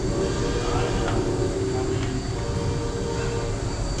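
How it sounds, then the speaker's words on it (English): Lionel model train running on a layout at a railroad museum, giving a steady low rumble and whir that fills the room without letup, with faint hall noise behind it. "Here comes that train again."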